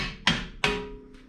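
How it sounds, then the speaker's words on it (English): A hammer taps the dust shield on the front hub of a 1996 Jeep Grand Cherokee, landing two sharp, ringing metallic blows close by, then a lighter third strike. "tap the dust shield out of the way"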